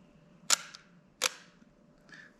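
Two close, sharp camera shutter clicks in quick succession, a Leica MP followed by a Leica M-A, in a quiet indoor space, with a faint soft sound trailing after.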